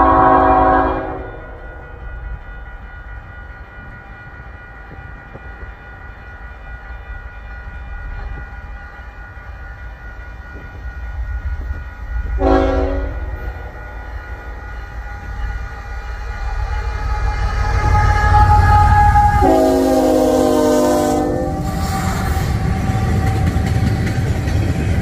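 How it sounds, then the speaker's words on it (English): A Union Pacific eastbound double-stack freight train led by a Tier 4 locomotive rumbles past nearby with a steady roar, its horn sounding a short blast and then a longer multi-note blast as the train closes in. "Another stack train, tier 4 leader."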